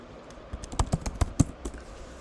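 Typing a pip install command on a computer keyboard, with about a dozen close, crisp key clicks in an uneven quick run, the loudest strokes near the middle, against a quiet background.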